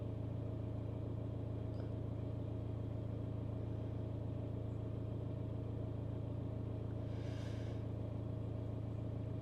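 A BMW 3 Series diesel engine idles steadily at low volume, a constant low hum and rumble with no revving.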